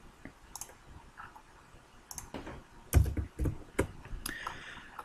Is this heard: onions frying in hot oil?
no